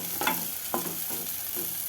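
A spoon stirs onions frying in a pan for soya chunk manchuria, scraping in a few distinct strokes over a low, steady sizzle. No voices.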